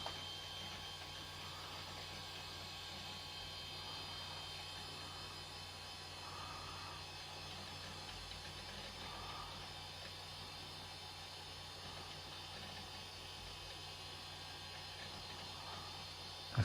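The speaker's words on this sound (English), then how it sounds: "They're very loud, these drives." An Apple 20SC external SCSI hard drive spinning loudly, a steady whirring hum with constant broadband hiss and faint tonal whine running unbroken throughout, close by and alone.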